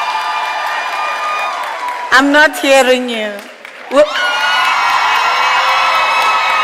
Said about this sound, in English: Can I request a round of applause from yourselves to these colleagues here and the Chancellor?